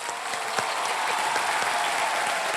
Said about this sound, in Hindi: आप लोग सब खड़े होके इनके 1 रुपए के लिए ताली बजाएंगे।